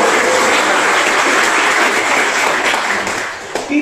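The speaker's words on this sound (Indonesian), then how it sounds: "Tepuk tangan dulu." Audience applause at a business partnership seminar on digital banking and gold payment, a dense steady wash of many hands clapping loudly throughout, tapering slightly near the end.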